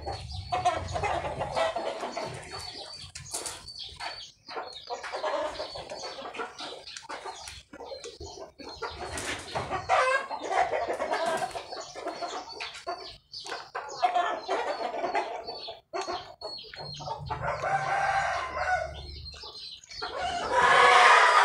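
Chickens cluck repeatedly nearby and a rooster crows in long calls, a busy, continuous barnyard chorus.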